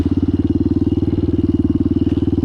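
Street bike motorcycle engine on an off-road ride, a close, steady throbbing idle with rapid even pulses that continue unchanged throughout.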